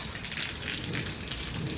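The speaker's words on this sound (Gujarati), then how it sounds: "વરસાદ બહુ ખાસા દિવસ પછી આવ્યો આપણા ગામમાં" Steady rain pours down in a village, a dense, even hiss of drops on surfaces running unbroken and fairly close, with no voices over it.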